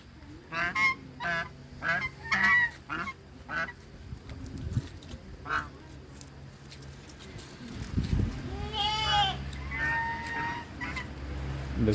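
A flock of ducks honks and quacks nearby in repeated bursts on a farm as they head into a chicken shed, with a voice talking briefly partway through and some rustling movement.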